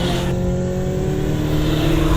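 Petrol engine of a 2020 BMW X6 SUV revving hard under aggressive throttle, a loud steady drone heard close, with no voices.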